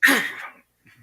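A single sneeze at a tabletop role-playing game session: one sharp, loud, close burst that fades within about half a second, followed by a faint breath.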